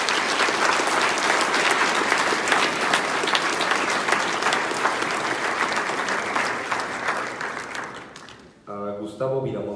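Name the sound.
audience applause at a symposium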